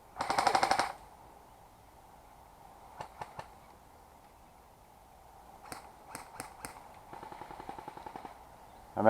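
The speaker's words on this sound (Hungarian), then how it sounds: "Zoli, olyan furcsa hangja van a fegyvereken." Airsoft guns fire in short bursts of sharp clattering shots during an outdoor bunker assault game, with quick triple pops separated by quiet gaps and a longer burst at the start, under a faint background hiss.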